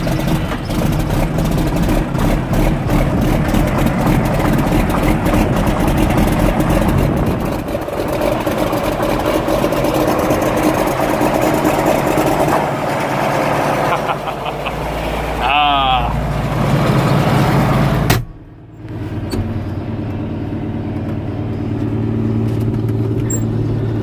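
A service truck's engine idles steadily outdoors on a cold farm day, a constant low rumble that runs throughout, with muffled voices partly heard over it and a brief dip near the end.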